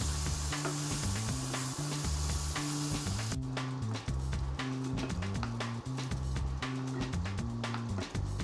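Chana masala curry cooks in a pan, giving a steady, dense sizzle with rubbing stirring strokes over a constant low tonal hum, continuous and moderately close, with no talking.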